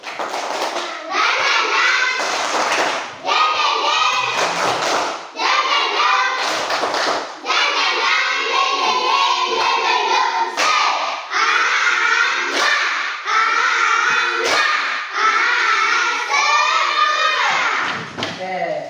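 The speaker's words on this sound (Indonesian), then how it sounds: "Tepuk semangat dulu." Children in a classroom doing a rhythmic spirit clap, a steady run of sharp hand claps and thumps filling the stretch, with kids' voices calling along underneath.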